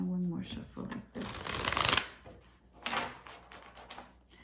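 A deck of tarot cards is riffled and shuffled in a couple of quick, close bursts, with a voice speaking briefly at the start.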